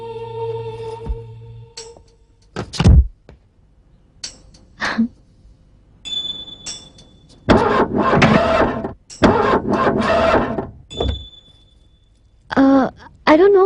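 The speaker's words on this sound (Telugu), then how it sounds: "బట్ సడన్ గా కార్ స్టార్ట్ అవ్వలేదండి" A car's engine failing to start in a film scene, with several short bursts of cranking and mechanical clatter broken by pauses, heard close, while voices speak between the attempts.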